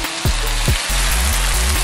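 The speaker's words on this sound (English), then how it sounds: "So I've been stir frying this until the oil separates" Chicken in yoghurt stir frying in oil in a pan over a medium flame, giving a steady loud sizzle with a few sharp clicks of the spoon scraping and stirring through it.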